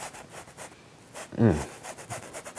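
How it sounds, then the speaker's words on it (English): A dry paintbrush scrubs paint onto canvas in quick, rhythmic rubbing strokes, faint and close, with a short voiced sound breaking in midway. "you can just do this dry brush scrubbing like this"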